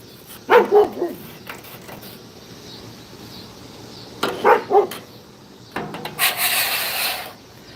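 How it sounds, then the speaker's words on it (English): Dogs bark in short clusters a few seconds apart, slightly distant, followed by a rasping, scraping noise near the end. "I'm listening to these barking ass dogs next door"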